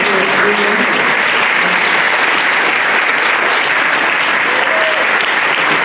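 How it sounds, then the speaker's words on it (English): An audience at a Congressional Gold Medal ceremony for Chinese American WWII veterans in Fresno gives sustained applause, loud and close for the whole stretch. "Let's give a big round of applause."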